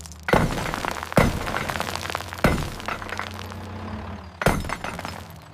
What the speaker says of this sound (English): I is for impact hammer.